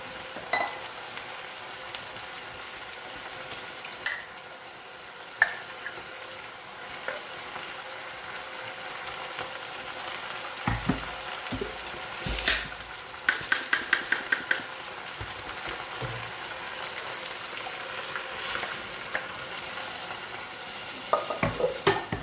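Kadaknath chicken masala frying in a pan, with a steady low sizzle and occasional scraping and clinking of a spoon as it is stirred, fairly quiet with brief clusters of taps.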